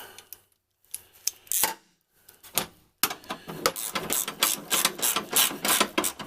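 A ratchet tightens running board bolts on a Chevy 2500HD pickup: a few quick clicking bursts separated by pauses, then a longer run of loud, close, rapid ratcheting clicks.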